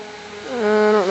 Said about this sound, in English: I wish I knew what kind of siren was going off right now.